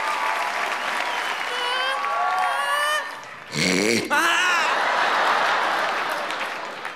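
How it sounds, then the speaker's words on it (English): Crowd applause and whoops at a standup comedy show as a shy volunteer comes up, a broad clapping wash with voices and cheers rising over it partway through. "Will you come up here and just give her a round of applause?"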